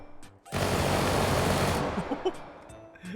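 Rapid automatic gunfire with unlimited ammo in the video game Dead Rails erupts as one dense, loud burst lasting just over a second, then trails off into softer scattered game sounds.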